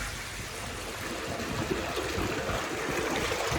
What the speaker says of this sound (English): Everything's draining out now